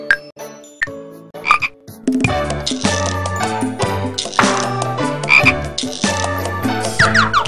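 A frog croaks in a preschool educational workbook DVD, with a run of bright, repeated croaks. Some come as isolated calls at first, then they thicken into a busy rhythmic chorus over a sustained tonal backing.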